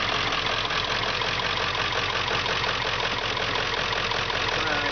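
Car engine idling roughly because of a wire harness fault, a steady, close, loud rumble with an uneven, faintly knocking pulse continuing throughout.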